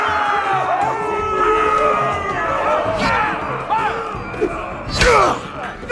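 Arena crowd in a Game of Thrones video game, a dense roar of cheering and whooping voices that swells and surges, with a sharp thud-like burst near the end.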